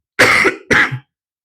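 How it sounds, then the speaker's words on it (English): Two harsh coughs in quick succession, loud and close, with a brief pause between them and silence afterward. "the cough is getting better, I promise"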